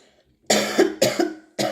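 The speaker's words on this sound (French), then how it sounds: "Ça m'en fait tousser." Three harsh, close coughs in quick succession, each a rough burst, with a short silence before the first.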